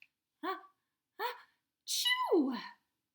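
A storyteller's voice imitates a bear's sneeze from a picture book: two short breathy build-up gasps, then a longer, sliding sneeze burst, all close and fairly quiet.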